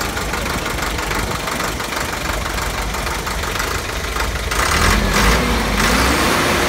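A car engine idles roughly and vibrates strongly, giving a steady, loud, close rumble with a knocking texture and a slight rise in intensity near the end, with no one talking.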